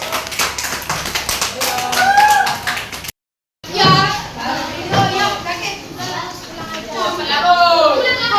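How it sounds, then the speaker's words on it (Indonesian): Schoolchildren in a classroom maths lesson clap together for a classmate, a dense run of quick hand claps mixed with children's chatter, cut by a brief silent gap before more clapping and excited voices resume. "Deh, tepuk tangan dulu untuk temannya."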